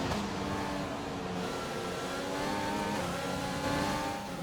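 Formula 1 race car engine at Monza in a racing video game, a sustained high-revving whine holding steady at speed with slowly shifting pitch, loud and continuous with no voices.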